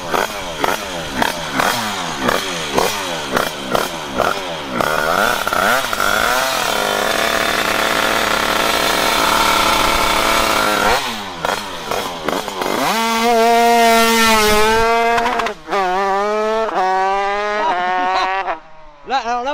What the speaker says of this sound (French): C'est un rupteur à sale bruit mais avec de la vitesse.